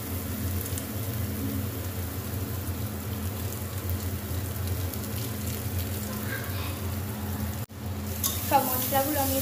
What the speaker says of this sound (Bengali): এবার এটা আমি মশলা দিয়ে দেবো।